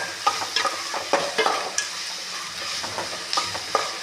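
Prawn masala sizzles steadily in a hot pan while a utensil scrapes and stirs in irregular strokes, close up, with no talking.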